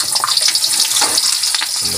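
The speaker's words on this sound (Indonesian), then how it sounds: "Ini bawang merah kita goreng terlebih dahulu." Shallots frying in hot oil give a close, dense bubbling sizzle with faint clatter and stirring scrapes, loud and continuous, with no speech over it.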